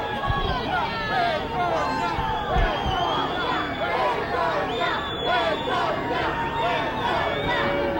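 A large crowd outside the courthouse in Perugia keeps up a dense wash of boos, shouts and chatter, with many overlapping wavering voices and a few sharp knocks, moderately loud and constant.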